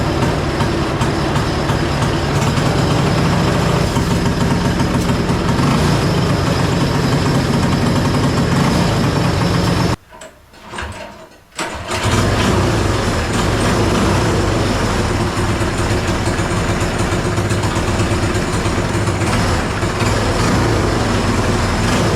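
Loud, steady engine drone that drops out briefly for a couple of seconds midway, then resumes just as strong.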